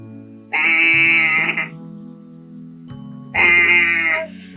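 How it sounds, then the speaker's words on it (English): A sheep bleats twice, loud and close, each a long wavering cry separated by a pause, over a steady low hum. "It's a sheep."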